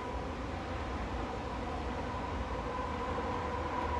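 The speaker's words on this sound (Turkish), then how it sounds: "Gene tren geliyor." A train rolls through the German countryside with a steady, continuous rumble and hiss of wheels on rails that holds close and loud for the whole stretch, with no voices.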